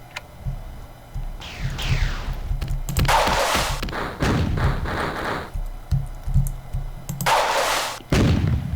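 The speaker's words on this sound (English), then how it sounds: "Pull out my missile launcher." Missile launcher firing in the video game Marathon 2: Durandal, several loud whooshing launches and booming explosive impacts one after another, with heavy low thuds between bursts.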